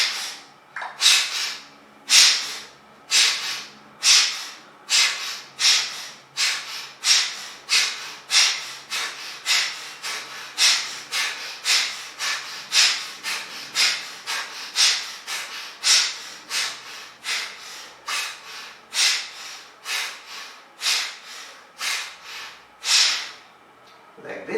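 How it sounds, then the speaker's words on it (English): Rapid, forceful yoga breathing through one nostril in the Nasagra Mudra hand position, a steady train of about forty sharp nasal exhalations in even rhythm, close and fairly loud. "holding like this, suddenly breathe out, breathe in. We will do for the left nostril"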